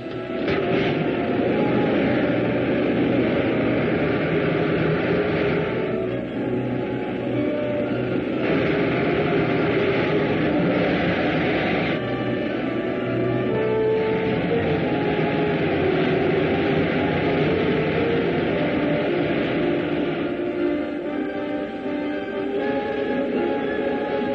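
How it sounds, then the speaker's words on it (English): Rocket ship jets firing in the film serial Radar Men from the Moon, a steady loud roaring hiss with a humming drone, continuous and unbroken, shifting slightly in texture but with no talk. "Fire pilot jets. Fire main jets."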